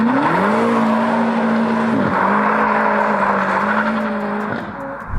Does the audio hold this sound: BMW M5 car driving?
yes